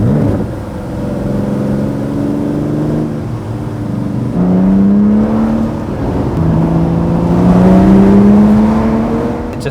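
An Aston Martin Vanquish V12 revs up sharply on downshift throttle blips, giving several rising sweeps over a steady, loud engine drone heard up close inside the moving car, with no talking.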